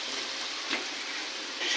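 Onions and tomatoes sizzle steadily in a pan, a close, even hiss of frying with a couple of faint stir sounds and no talk.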